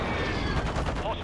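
Burst of rapid gunfire in Modern Warfare 2 combat, dense and loud for a moment, with a voice partly audible underneath.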